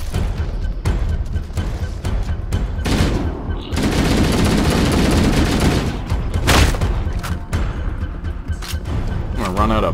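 Gunfire in Halo: Combat Evolved Anniversary during a fight against the Flood: loud, dense bursts of automatic fire and scattered single shots, with sustained chattering stretches, thuds and a rising electronic whine near the end.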